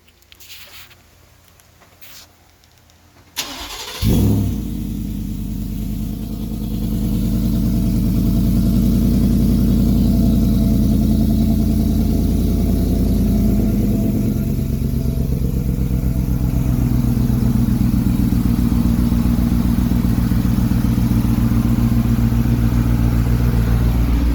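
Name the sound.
car engine starting and idling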